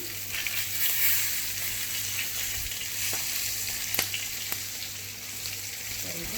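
Eggplant fries in hot oil for a Tunisian stuffed-vegetable dish, giving a constant close sizzle with a few soft clicks and pops.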